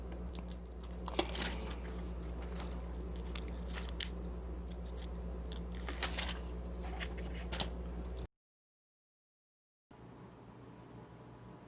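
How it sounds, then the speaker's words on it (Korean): Protective plastic film peeled off a G.Skill Trident Z Royal DDR4-4800 RAM module, close crinkling and scratchy tearing in irregular bursts over a low hum, then a brief silence and quieter background. "테스트 하려면 이 비닐은 벗겨야 돼요"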